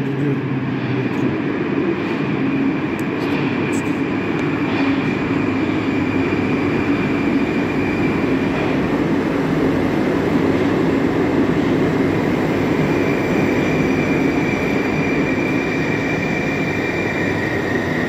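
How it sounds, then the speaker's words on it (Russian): A metro train rumbles steadily through Stakhanovskaya station on an open-platform section, a continuous loud rolling roar with a faint high squeal holding throughout, no voices. "Вот идет метро."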